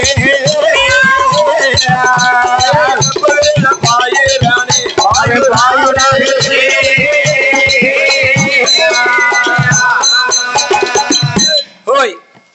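A performer in a Tamil villu paattu folk show mimics a kitten's meow with his voice, in loud, continuous, strained mewing cries over the performance that stop abruptly near the end.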